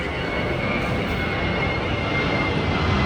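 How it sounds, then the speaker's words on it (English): Continuous loud roar of an airplane engine passing overhead near Detroit Metropolitan Airport, broadband and steady throughout, with no voices. "got another plane coming through"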